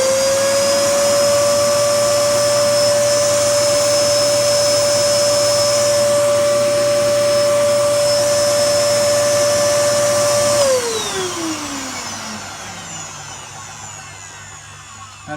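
A Hoover Parquet Caress 2200 watt vacuum cleaner running with a loud steady motor whine, then switched off, the pitch sliding down as the motor spins to a stop.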